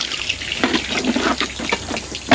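Water gushes and splashes from a hand-operated water pump at a home, with uneven surges of flow pouring steadily and close throughout.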